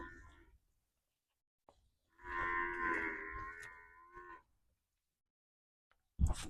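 A buffalo, one of two pregnant, heavy buffaloes for sale in a Punjab village near Harike Pattan, Tarn Taran, lets out a single long, loud moo in an otherwise quiet spot, followed by a brief noise at the end.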